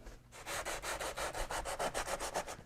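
Hand sanding a wooden steel-string guitar top: about a dozen rhythmic back-and-forth rasping strokes, close and even, with no voices.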